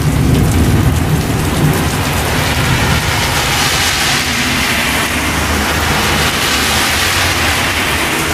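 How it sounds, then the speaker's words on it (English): A severe summer thunderstorm in Westbury, Long Island, pours down as loud, steady rain with deep rolling thunder throughout, a dense close roar with no voices. "usually in Long Island we usually don't get thunderstorms like this bad"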